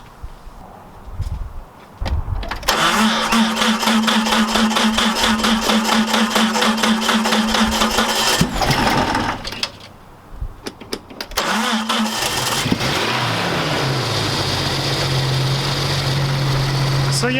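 A Jeep engine cranks and fires up using a portable jump starter, catching after a couple of tries and then settling into a loud, steady idle with brief pauses between start attempts.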